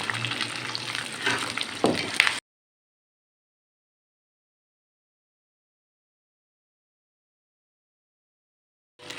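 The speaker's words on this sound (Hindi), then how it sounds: "इसको नाजरीन थोड़ा सा हम फ्राई करेंगे ताकि इसका कच्चापन ख़त्म हो जाए" Three medium onions frying with a teaspoon of cumin in oil give a short burst of close sizzling and stirring that cuts off abruptly into long silence, with a faint return at the very end.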